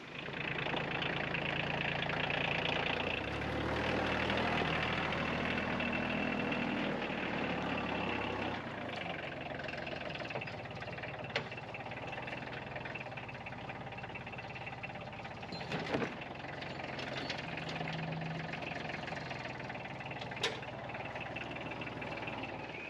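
A tractor engine idles steadily with a low, even rumble, fairly close, with a few faint clicks and no talking.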